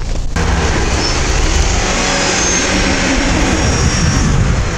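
Lada Niva 2131 and 21214 off-road vehicles stuck together, engines revving hard with wheels spinning; a loud, steady, continuous engine roar fills the whole clip.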